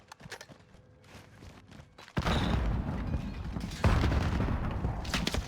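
Gunfire in Call of Duty Warzone: quiet, scattered game noise gives way to a sudden loud, sustained burst of shots and chaotic combat that stays dense to the end.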